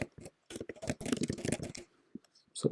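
Computer keyboard keys clicked in a quick irregular burst while a name is typed, close and light, with short gaps between taps and a brief pause before a few final clicks.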